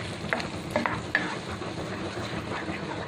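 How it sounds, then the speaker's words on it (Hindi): Whole-spice paste stirred and fried in oil for an aloo gobi curry, a continuous soft sizzle with a few light spoon taps early on, with no talk. "इस पेस्ट को हमें अच्छी तरह भून के लेना है।"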